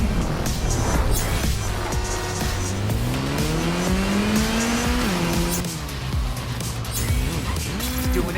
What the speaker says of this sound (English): What else I love about the Bat Pod, which we'll just call it that, is the little race challenges you have in the city.